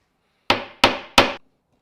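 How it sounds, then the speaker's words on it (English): Three sharp, loud hammer blows smash into a BMW E61 car window at an even pace, each impact ringing briefly with a bright glassy crack before decaying, then silence. "take the hammer and make sure to smash the window"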